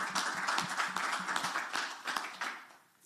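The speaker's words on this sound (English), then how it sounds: "I hope you heard that applause, Martin" Applause rises from an audience at a COP27 side event in Egypt, a moderately quiet wash of overlapping claps that tapers off near the end.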